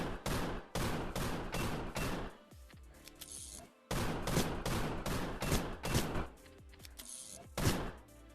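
Revolver shots in the shooter game Gun Raiders, a rapid string of loud, sharp reports in two bursts separated by a brief lull, each volley of about six shots tightly spaced.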